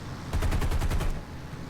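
Aircraft machine gun fire in a flight combat video game, a P-40 Kittyhawk against an A6M2 Zero, sounding as one loud rapid burst of about nine evenly spaced rounds lasting under a second.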